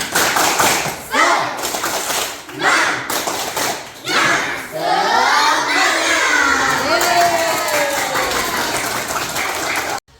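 Schoolchildren at SMP Negeri 2 Wih Pesam perform a tepuk semangat clapping chant, with loud, rhythmic group claps and chanting voices, followed by a long burst of shouting and cheering from the whole group.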